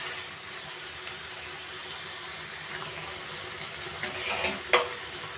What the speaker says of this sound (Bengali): যতক্ষণ না পর্যন্ত মশলার থেকে তেল বেরোচ্ছে ততক্ষণ পর্যন্ত এইভাবে মশলাটা কষতে